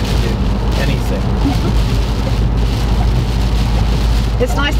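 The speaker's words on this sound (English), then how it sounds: "nice, attentive rain sensing wipers are speeding up without me having to do anything" Rain beating on the windscreen of an Isuzu D-Max pickup while driving, with rain-sensing wipers working. A dense, steady patter sits over a constant low road and engine rumble, and the wipers sweep faintly.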